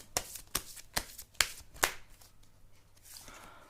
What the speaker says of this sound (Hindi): चलिए और कार्ड्स निकाल के चेक करते हैं